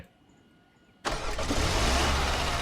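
A car engine in the Roblox game A Dusty Trip cranks and catches abruptly after a quiet second, then settles into a loud, steady rumbling idle close by.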